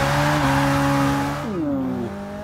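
A Ferrari 488 GTB engine in the racing game Forza Motorsport 6 roars loudly at high revs, with a brief dip and rising pitch as a gear changes, close and alone without talk.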